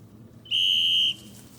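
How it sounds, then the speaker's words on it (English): A single sharp referee-style whistle blast starts a high school race in New Mexico, held steady for about half a second over low ambient background. "The whistle is the moment when sports return to New Mexico."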